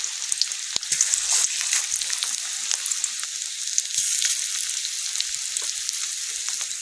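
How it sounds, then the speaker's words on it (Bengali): Broccoli and egg chops sizzling in oil over a wood-fired stove, a bright, steady crackling fry with sharp pops, close and loud, no voices. "বেশি ডুবো তেলে ভাজবেন না"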